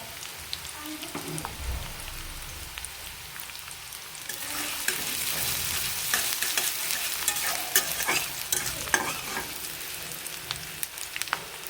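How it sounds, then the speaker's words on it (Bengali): Onions fried until reddish-brown and stirred in a pan, a soft steady sizzle with scraping stir strokes that grows denser and louder partway through; no talking. "আমার পেঁয়াজটা লাল হয়ে গেছে বন্ধুরা"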